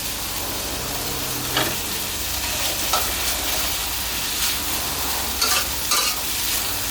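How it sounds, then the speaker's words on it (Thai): Dry sukiyaki with glass noodles and egg sizzles steadily in a pan, with spatula scrapes and tosses recurring every second or so over a constant loud frying hiss, near and without voices. "ก็ผัดทุกอย่างให้เข้ากัน"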